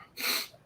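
A single sneeze, sharp and close, with a quick breathy burst and no talk over it.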